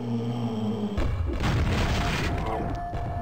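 A grenade exploding in the video game Quake, a sudden loud boom that breaks over a droning game soundtrack, followed by a rumbling, crackling tail lasting a couple of seconds.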